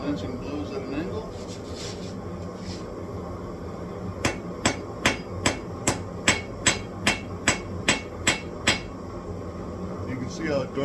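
A hammer strikes a hot steel billet on an anvil in a forge: after a quieter stretch, about a dozen sharp, ringing blows land in a steady, evenly spaced rhythm, close and clear over a constant background hum.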